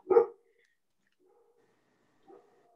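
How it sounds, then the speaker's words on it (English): A dog gives one sharp bark followed by a faint, drawn-out howling whine, then a brief soft yelp, set against near silence. "I'm sorry for my singing dog."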